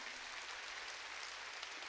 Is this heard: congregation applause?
yes